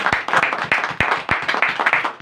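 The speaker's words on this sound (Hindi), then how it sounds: "सिस्टर के लिए एक बार जोरदार ताली।" A church gathering claps in rhythm for a sister, loud, close, evenly spaced group claps repeating steadily with no talking over them.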